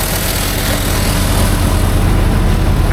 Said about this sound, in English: we're blowing our last load of silage.